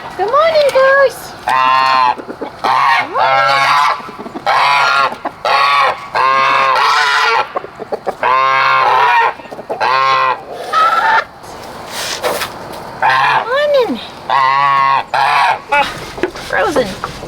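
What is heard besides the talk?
geese honking on a farm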